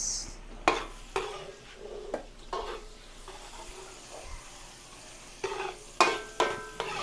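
Onion and garlic sautéing in a pan for a Filipino dish, with a steady sizzle punctuated by several sharp scraping stirs of a utensil against the pan, close and moderately loud, no talking.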